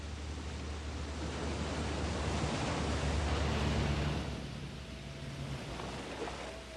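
A 1969 Volkswagen 411 drives through a flooded street, with a steady, loud rush of splashing water that swells and then eases over several seconds.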